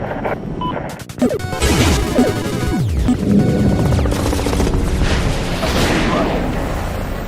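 Battle sounds from the video game Medal of Honor: an RPG blast and heavy booming crashes with bursts of gunfire, loud and chaotic throughout, with radio-style voices talking over the din.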